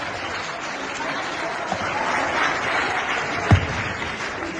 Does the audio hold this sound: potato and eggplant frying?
no